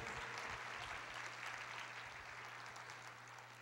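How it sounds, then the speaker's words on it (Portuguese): A church congregation applauds throughout, a steady wash of clapping from many hands with a low hum underneath and no voices clear. "Você pode aplaudir o Senhor"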